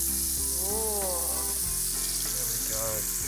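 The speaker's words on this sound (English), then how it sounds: "Listen to that sizzle" Loud, steady sizzling and crackling of cornbread batter frying in hot ghee fills the whole stretch, with faint voice murmurs briefly rising underneath.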